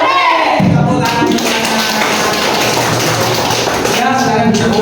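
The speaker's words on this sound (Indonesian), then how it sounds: "Tepuk tangan." Students in a classroom clap their hands together, a dense, continuous patter of many hands that stays loud and even for nearly five seconds.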